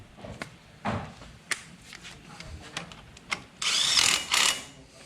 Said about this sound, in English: And then we're going to go ahead and tighten the bolt down.